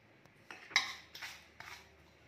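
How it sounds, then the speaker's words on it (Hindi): Grated sweet potato being mixed with barnyard millet rice in a big metal vessel, a few faint clinks and scrapes of a spoon against the pot at irregular intervals in a quiet kitchen. "हमने जो शामक चावल है उसको इसमें मिक्स कर लेंगे।"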